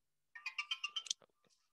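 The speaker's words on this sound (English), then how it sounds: "my phone has just gone absolutely bonkers here, so I'll put it on silent" A mobile phone ringtone chirps out a quick run of about seven bright electronic pulses, then trails off into a few faint notes, heard alone in a quiet room.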